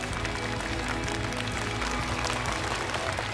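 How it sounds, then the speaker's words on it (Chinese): A TV comedy show's studio audience claps loudly and continuously, a thick wash of applause layered over booming stage music. "掌声送给他们。"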